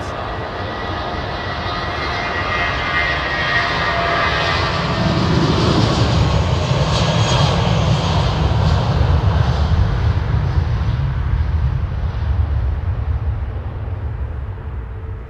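A jet aircraft engine at London Heathrow Airport, heard as a loud, steady roar that swells in the middle and then eases slightly, continuous and fairly close, with no talking over it.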